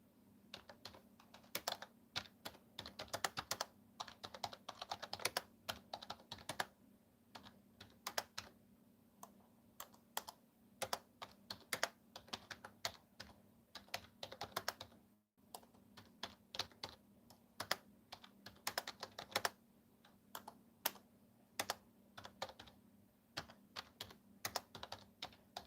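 Fingers type on a laptop keyboard in bursts of quick, crisp key clicks with short pauses between runs, close and fairly quiet, with a steady low electrical hum underneath and no talking.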